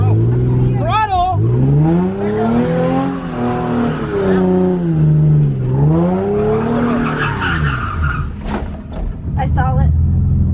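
A car engine revs hard at full throttle while drifting, with a wavering, swooping engine note and tire noise, as people talk loudly over it throughout.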